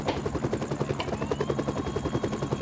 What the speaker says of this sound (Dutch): Die helikopter blijft wel heel lang boven ons hoofd chopperen trouwens.